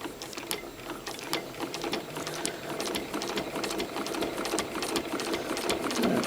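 A sewing machine runs a steady, rapid stitch while free-motion quilting linen fabric against a Dahlia ruler template. The mechanical whir and tapping are close and continuous throughout, with no talking.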